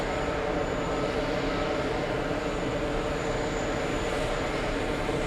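A Qantas airliner at JFK airport produces a loud, continuous broadband engine roar that holds steady and close throughout, with no voices.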